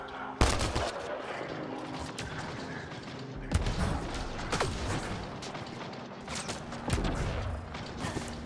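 Heavy gunfire in a Mass Effect Andromeda firefight against many enemies holding the high ground, with dense, continuous rattling shots and sharp louder bursts recurring every few seconds under faint background voices.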